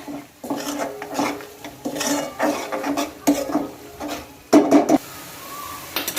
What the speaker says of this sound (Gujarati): હવે આપણે પાણી નાખીને બીજા એકથી બે મિનિટ સુધી આ મસાલાને શેકી લેવાનો છે